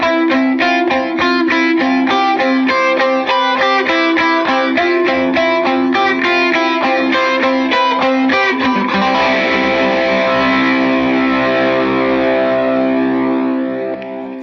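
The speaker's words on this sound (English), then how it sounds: "They've used the Ratatouille distortion, which I believe is the newer version of the Rat style distortion" Electric guitar run through a Rat-style Ratatouille distortion, subtle phaser and stereo delay on a Line 6 POD Go, playing rapid distorted picked notes that give way to a sustained chord ringing out with a long echoing delay tail, loud and alone.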